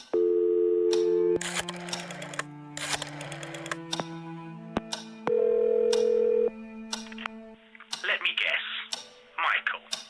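Telephone tones from the horror video game Scratches: steady electronic dial and signal tones with a click, then clattering mechanical handling of the receiver, fairly quiet and without speech.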